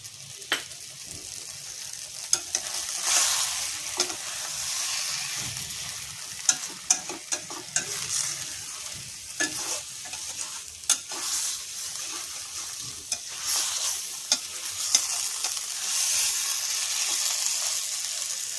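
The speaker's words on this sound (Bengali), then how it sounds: "এটাও একটু ভাজা ভাজা হয়ে যায়।" Ridge gourd with grated coconut and poppy seed fries in a pan while a spatula stirs it, giving a steady soft sizzle punctuated by repeated scraping clicks and knocks, close up with no talk.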